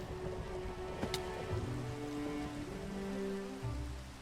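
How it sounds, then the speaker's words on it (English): Rain falling in the Minecraft video game with the Create mod, a steady close patter on surfaces with a few louder drop hits, continuous and fairly soft, with no speech. "I hate when the rain breaks my schematic."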